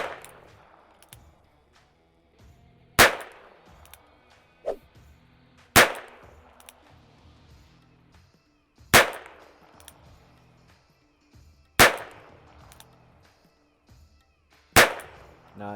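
A Ruger Wrangler Birdshead single-action revolver fired at a range: five loud, sharp single shots spaced about three seconds apart, each with a short ringing decay, amid quiet background noise.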